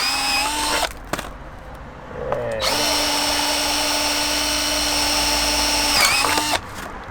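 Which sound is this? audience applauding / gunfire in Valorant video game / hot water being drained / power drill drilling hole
power drill drilling hole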